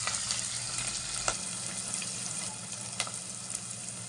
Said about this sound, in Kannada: 1/4 ಸ್ಪೂನ್ ಜೀರಿಗೆ, ಇದು ಚೆನ್ನಾಗಿ ಫ್ರೈ ಆಗಬೇಕು.